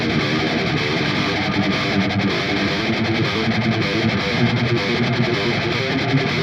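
A thick, heavily distorted electric guitar plays sustained chords with a wide, swirling stereo spread, loud and continuous with no voices.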